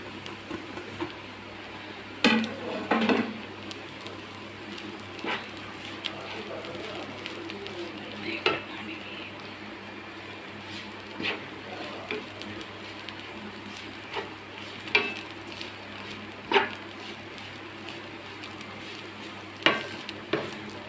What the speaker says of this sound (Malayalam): എല്ലാം കൂടി ഞാൻ അതിനകത്തേക്ക് ഇട്ട് മിക്സ് ചെയ്യണം.